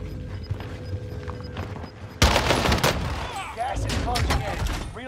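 A FENNEC submachine gun fired from the hip in Call of Duty, played on Rebirth Island: a quiet stretch, then a sudden loud run of rapid automatic shots with a brief pause before another burst. A voice talks faintly underneath.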